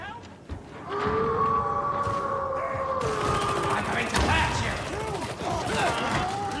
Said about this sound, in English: It's like a 100 gauge shotgun.